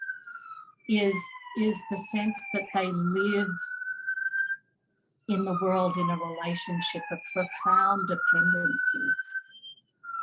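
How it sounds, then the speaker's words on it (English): Police sirens wail outside in the background, their rising and falling tone running beneath someone speaking continuously. "Sorry about the sirens."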